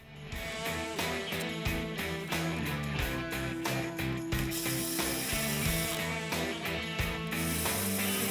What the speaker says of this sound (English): You're going to go ahead and tighten this fully in place.